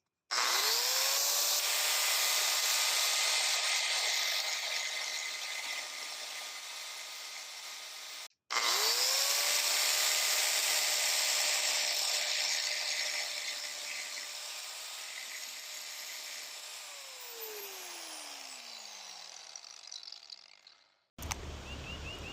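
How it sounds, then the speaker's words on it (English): Power grinder working down plug welds on a CETME rifle receiver: a loud steady whine with harsh metallic grinding, a brief cutoff near eight seconds, then continued grinding before the tool spins down and stops. "we'll need to grind that area down so that we can break the welds"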